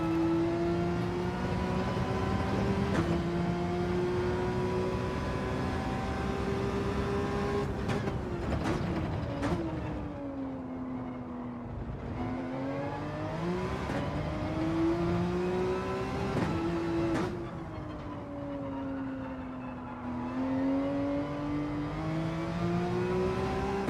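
A Porsche race car engine in Gran Turismo 7 drones steadily with a tonal whine that rises and falls with shifts and throttle changes over a lap, loud and continuous.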